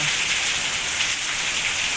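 Heavy rain falls in the mountains near Dharamshala, a steady close hiss of drops with no pauses or voices.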